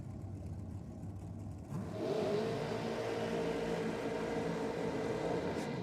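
A drag racing car at Sydney Dragway doing a burnout, its engine rising into a sustained, droning roar that climbs in pitch and holds, heard from some distance over a constant background rumble.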